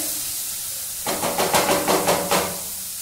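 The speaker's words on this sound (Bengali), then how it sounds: "একটু কষিয়ে নিতে হবে যাতে কাঁচা রসুনের গন্ধটা না থাকে" Garlic sautéing in a pan, a steady background hiss that turns into a louder sizzle after about a second, with rhythmic scraping strokes from stirring.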